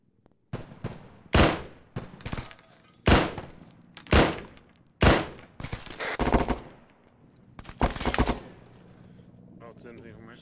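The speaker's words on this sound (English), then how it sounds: "Someone's shooting me if I go in that room" Bursts of gunfire in the video game Arma 3, set in the Tanoa campaign: sharp, loud shots fire in irregular single cracks and short clusters, with echoing tails between them and voices talking in the background.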